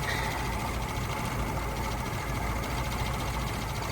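A 1964 Ford Country Squire engine runs steadily with its air-conditioning compressor engaged, giving a constant close mechanical drone and hum with no talk.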